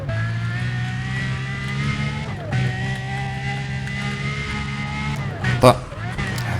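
Road traffic in Need for Speed: Undercover, with a steady engine hum from cars driving past and a short louder burst near the end.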